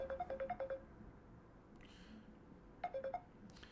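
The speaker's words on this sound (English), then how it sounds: "Oh, I got a phone call." A phone ringtone from an incoming call plays as two quick bursts of repeated electronic beeps, one at the start and another near the end, fairly faint over low room noise with no talking.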